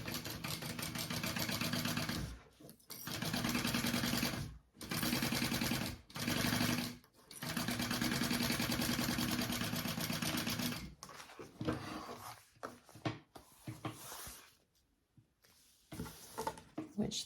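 A home sewing machine runs steady basting stitches along the top edge of a tote bag's slip pocket, a close, even mechanical whir in several runs separated by short stops, with someone talking at the end.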